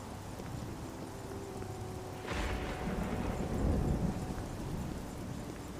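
Rain hisses steadily through a dark, stormy night in the game Oblivion, and a deep roll of thunder swells midway and rumbles on under the downpour.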